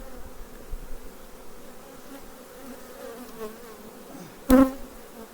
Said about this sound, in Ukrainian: тільки привіз, бджілки вже працюють. На золотарнику.